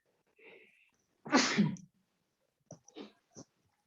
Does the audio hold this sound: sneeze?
yes